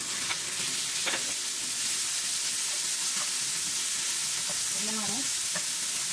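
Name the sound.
ground pork frying and sizzling in a pan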